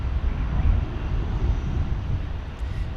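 A Boeing 787 Dreamliner airliner at DFW Airport, Dallas, Texas, bound for Shanghai, makes a steady, loud, low jet-engine rumble and roar throughout, heard outdoors without speech.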